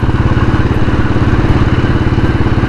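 Motorcycle rides over a cracked, damaged road after rain, its engine a loud, steady, close-up throbbing putter with a rhythmic pulse throughout.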